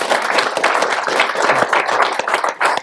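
An audience at a garage-industry conference panel applauds, dense steady clapping filling the room for a few seconds, fairly loud and without talk.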